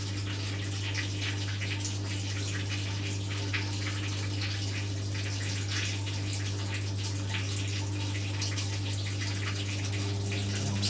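A Hotpoint WF250 washing machine drains water, giving a continuous steady rush of flowing water over a constant low pump hum, unchanging throughout.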